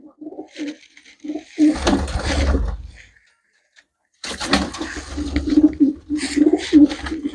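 Pigeons coo in short repeated bursts, with a pause and clattering movement between phrases, fairly close and clear.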